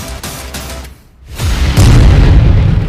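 A loud explosion at a camp outside Al-Aqsa hospital in Gaza, a deep boom after a brief lull that swells into a sustained heavy rumble filling the rest of the moment.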